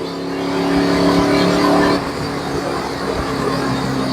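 A Toyota Troopy launches at an NHRA drag race with a loud, close engine roar revving hard off the line, then dropping to a lower, rougher drone as it pulls away.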